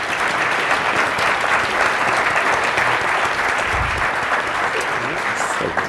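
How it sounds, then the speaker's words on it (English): An audience claps for the panelists at a workplace panel event, a dense, even roar of applause that holds steady and fairly loud from start to finish. "I'd love if all of us could give a round of applause to our panelists"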